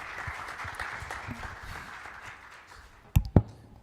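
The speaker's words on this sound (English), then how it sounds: "Great applause, please." Audience applause in a hall at a sports medicine congress, a thin, fairly distant patter of clapping that fades out, followed by two sharp close taps or thumps near the end.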